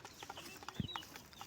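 Hen on a small farm clucking faintly, a few brief calls with one slightly louder low note, over quiet outdoor background.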